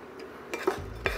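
Hoffmann pans being handled in a home kitchen, a few sharp metallic clinks and knocks, close and fairly quiet, scattered over about a second.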